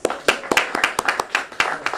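Audience clapping for Philadelphia school superintendent Dr. Tony Watlington at a mayoral event, a burst of sharp, uneven hand claps from a modest crowd, fairly close and steady for two seconds.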